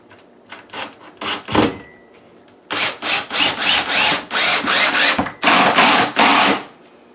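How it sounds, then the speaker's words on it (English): Power drill boring pilot holes into cabinet wood, several short whirring bursts followed by a series of rhythmic, loud grinding pulses, close by with no talking. "the reason we drill the wood like that is because sometimes when you put a screw in, it splits the wood"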